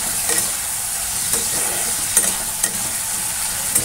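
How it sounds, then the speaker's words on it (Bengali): Potatoes frying in a pan at home, a steady close sizzle with soft crackling and occasional stirring scrapes, no voices. "আর এই যে আলু ভাজা বসিয়েছি"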